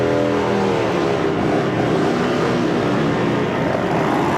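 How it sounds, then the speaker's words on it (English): Motorcycles rev at a town bicentennial parade, a steady, loud, dense engine roar with no break across the whole stretch and no voices over it. "Still getting those motorcycles revved up."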